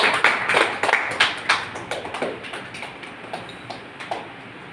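A seminar audience in Jaipur claps to welcome a speaker: a dozen or so distinct, sharp hand claps, strongest at first and gradually thinning and fading.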